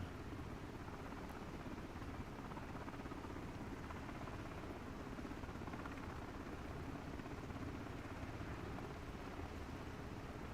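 HH-65B helicopter hovering over a helipad in the MSFS 2024 flight simulator, a constant loud rotor and turbine roar that stays steady throughout.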